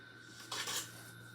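A utensil scrapes around the inside of a mixing bowl of pound cake batter, giving a single brief, soft scrape over a faint steady hum.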